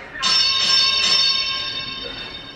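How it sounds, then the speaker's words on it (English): A big bell used as a home HIIT workout timer strikes once. Its bright ringing tone starts sharply, then slowly fades over a couple of seconds. "Do you like the big bell?"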